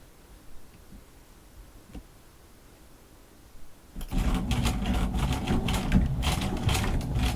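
A sewing machine backstitching Velcro onto a doll fabric panel starts up after a quiet stretch, then runs in a loud, rapid, steady mechanical clatter close by, with no voices.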